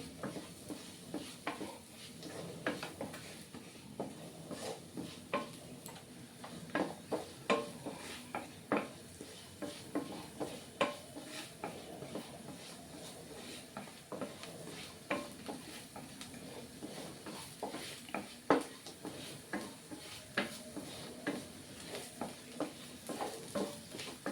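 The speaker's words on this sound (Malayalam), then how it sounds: "എന്നിട്ട് ഇതെല്ലാം നന്നായി ഒന്ന് ഇളക്കിയെടുക്കാം." Masala for prawn roast frying in a pan while being stirred, soft rhythmic scrapes and taps of a spoon against the pan repeating over a low, steady sizzle.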